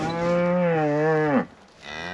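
A cow gives one long, loud, close moo that bends downward at the end, followed by a quieter second lowing, alone with no talk.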